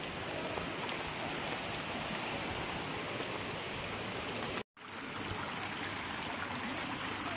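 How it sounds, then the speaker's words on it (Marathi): Rain-swollen water rushes steadily over bare rock slabs in a continuous, full hiss, like a nearby stream in spate, broken only by a split-second cut. "सगळं कातळ दगड आहे त्याच्यामुळे हे पाणी सगळं खाली येते"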